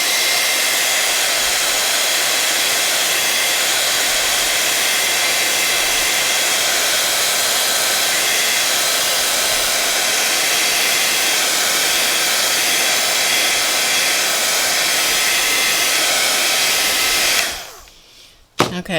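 A heat tool blows steadily for about seventeen seconds as it melts Baked Texture embossing powder, a loud, even hair-dryer-like roar that cuts off abruptly near the end.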